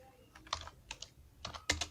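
Quiet clicking of a computer keyboard as HTML code is typed, a handful of irregular keystrokes in two small bursts, close and soft with no speech.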